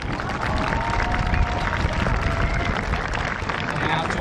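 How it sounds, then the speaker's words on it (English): A crowd applauds at the Calipatria High School Class of 2025 graduation ceremony, with dense, sustained clapping and some cheering and murmur that hold steady throughout. "Big round of applause for Mr."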